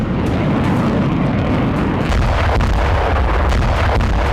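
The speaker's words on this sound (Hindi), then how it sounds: "भीषण बमबारी कर हिजबुल्लाह की लॉन्च साइट को तहस नहस किया जा रहा है।" Heavy booming blasts from Israeli air strikes pounding Hezbollah launch sites in Lebanon, a dense continuous rumble of explosions with sharper bursts layered over a loud low roar throughout.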